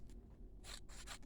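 Paper being cut with scissors for a stamped card, a few quick, faint snipping strokes close by, quiet and brief.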